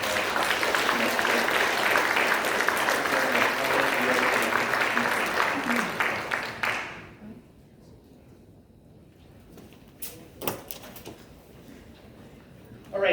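Audience applause at a Navy League event in New York, sustained and dense for about seven seconds, then cutting off to a quiet room with a few scattered claps and small knocks.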